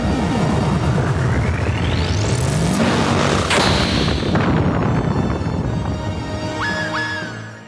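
The Flare spell in Final Fantasy Tactics erupts as a loud, dense roaring blast with a rising sweeping tone, a sharp explosive crack midway, then a rumbling decay with faint chiming tones at the end, no talking.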